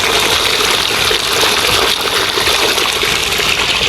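A strong, steady rush of flowing water, loud and close, gushing continuously without pause while a rice paddy is prepared for direct seeding.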